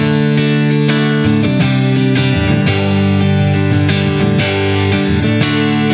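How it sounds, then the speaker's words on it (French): Electric guitar chords ring through a budget reverb pedal set subtly as a background wash, with strummed attacks every half second or so and sustained tails blending into each other, loud and continuous. "Et ça fait carrément le café pour une petite reverb de fond."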